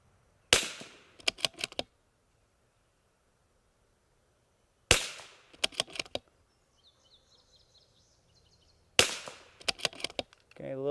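A CZ457 MTR rimfire rifle fires in semi-auto benchrest precision shooting, three sharp close shots spaced about four seconds apart, each followed by quick short rattles and faint chirps in the quiet between.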